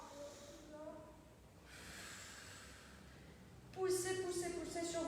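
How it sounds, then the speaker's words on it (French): Deep, steady breathing during an exercise workout: one long, breathy inhale-like hiss at close range, with a voice heard briefly before it and again at the end. "De nouveau, j'inspire une dernière fois."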